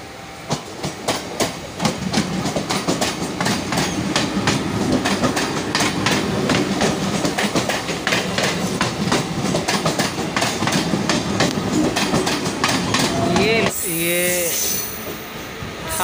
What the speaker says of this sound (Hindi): देखिए कितने फास्ट ट्रेन जा रही है।